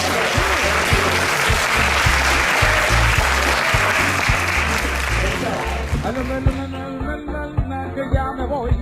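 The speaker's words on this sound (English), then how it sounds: "Can we please give a round of applause to our..." An audience at a 2016 Alzheimer's summit panel on elder fraud applauds in a loud, steady round lasting about six seconds, which then gives way to music with singing.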